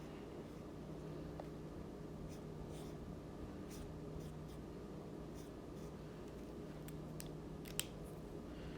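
A pen drawing on paper gives a faint, steady scratching of short strokes, soft and close, with no voices.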